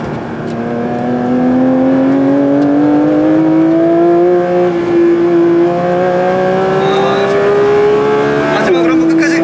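Porsche Cayenne Turbo GT or 718 Cayman GT4 driven hard on a race circuit, with a loud sustained engine note climbing steadily in pitch under full acceleration, close and continuous, briefly dropping near the end as a shift or lift occurs.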